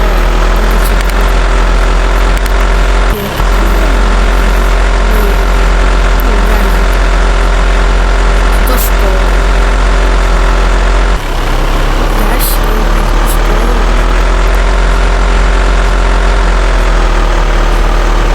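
A vehicle pulls up to a stop and its heavy engine idles nearby in a loud, steady low rumble that runs the whole time, with a couple of brief thuds partway through.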